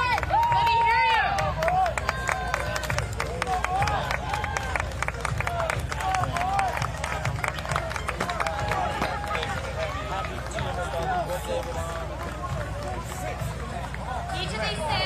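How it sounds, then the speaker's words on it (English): Crowd cheering for competing teams at the Army's 250th birthday military parade, a dense roar of voices and shouts sustained throughout, with an announcer talking over it. "Make sure you're cheering for your team."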